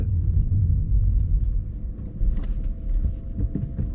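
A Skoda Roomster with a smart clutch creeping backward into a parking space, giving a low, steady engine rumble from inside the cabin with no revving.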